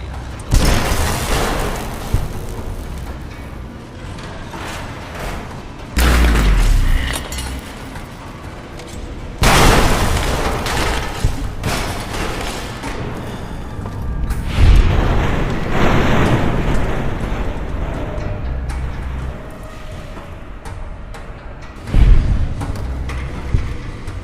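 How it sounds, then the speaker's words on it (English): Weapons firing in Fallout New Vegas: heavy booming blasts repeat every few seconds, some with glassy debris tails, loud against a steady ambient bed. "Firing weapons."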